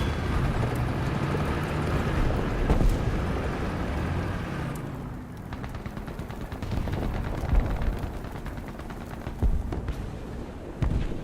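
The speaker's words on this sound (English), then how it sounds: "Now we do have a T-58 there that could be that noise. I think that's the engine noise." A T-58 tank engine in War Thunder rumbles steadily and loud throughout, with sharp sporadic bangs and clanks from gunfire and battle noise scattered across it.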